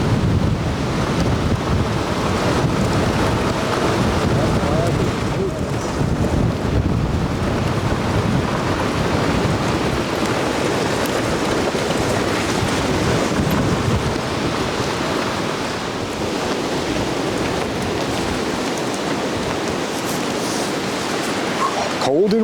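Strong cold wind blasts across the microphone outdoors at Berkeley Plantation, a loud, constant roaring buffet that never lets up for over twenty seconds.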